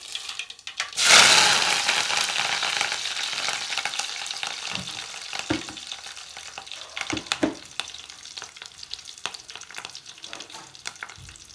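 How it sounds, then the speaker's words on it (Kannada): Cumin seeds and curry leaves splutter and crackle in hot oil, a loud burst of sizzling at first that settles into steady frying with scattered sharp pops, close and with no voices. "ನೋಡಿ, ಈ ಥರ ಚಟಪಟ ಅನ್ನಬೇಕು."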